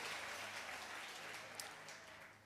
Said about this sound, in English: Clap your hands if you receive that.